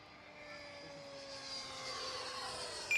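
Electric RC plane, a Durafly EFXtra Bush Racer with landing gear, making a full speed pass: a rising, whining motor and propeller drone with a slight pitch drop as it goes by, fairly distant and steady.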